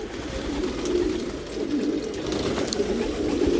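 Racing pigeons in a Dhaka Mirpur loft coo in soft, continuous overlapping murmurs, close by, with no talking.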